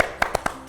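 Four or five crisp hand claps ring out close by at an uneven, quick pace, each a short sharp snap with quiet gaps between.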